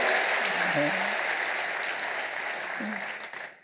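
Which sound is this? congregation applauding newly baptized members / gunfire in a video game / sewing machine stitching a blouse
congregation applauding newly baptized members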